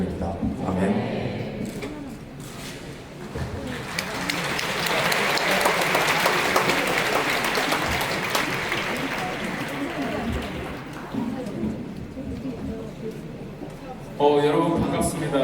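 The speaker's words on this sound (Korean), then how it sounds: "이렇게 또 박수 쳐주시니까 너무 감사하네요." Applause from a congregation at a summer church retreat evening service rises and swells into a long, full round of clapping, then thins out as a voice speaks near the end.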